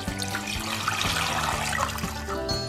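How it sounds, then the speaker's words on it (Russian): Tap water runs steadily into a cooking pot holding bone-in chicken for a Turkish soup, about two litres filling it in a continuous splashing pour with rising tonal resonance as the pot fills, close and loud with no talk. "Сейчас добавляю пару литров воды."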